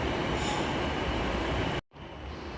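Class 390 Pendolino 39131 pulling away from Carlisle station on the West Coast Main Line, a loud, steady broadband rumble that cuts out abruptly near the end before resuming more faintly.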